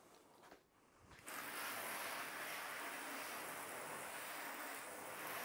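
Water from a hose or pressure washer rinses shampoo off car paint during a wax test, starting after a short quieter moment and then rushing in as a loud, steady hiss that holds to the end.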